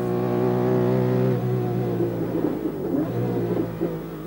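A 1950s race car driving the Nürburgring circuit, its engine a loud steady drone that breaks into uneven revving and gear changes, heard alone.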